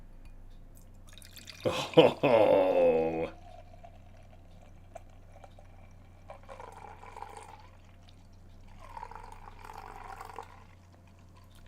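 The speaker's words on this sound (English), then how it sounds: "Let's get into the theatrics of a couple second pour." Dark beer is poured into a glass in a short gush lasting about a second, followed by softer gurgling and fizzing; a voice speaks briefly before the pour.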